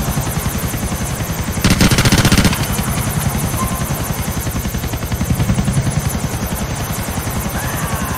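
Helicopter in Grand Theft Auto 4 flies with a steady, loud rotor chop and turbine whine throughout, swelling briefly in a denser burst partway through, with no talk over it.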